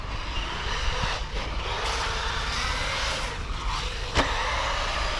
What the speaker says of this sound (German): Ich fahre mit meinem RC-Car Traxxas Max 4S auf einem Skatepark.